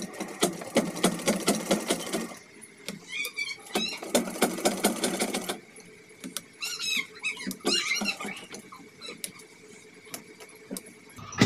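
A sewing machine stitching along a marked line on a blouse neckline gives bursts of rapid needle chatter close by, with pauses between runs and a soft steady hum underneath.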